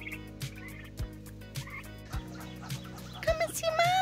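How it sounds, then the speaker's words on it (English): Turkeys gobble and cluck in a farm enclosure, with bursts of rapid, warbling calls close by, repeated several times and growing busier toward the end. "How's my turkeys? You silly turkeys."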